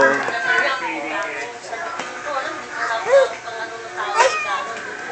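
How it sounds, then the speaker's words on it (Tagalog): A cat meows several times close by, giving drawn-out whiny cries with rising and falling pitch, mixed with a person's talk and soft vocalizations. "Ay, pusa."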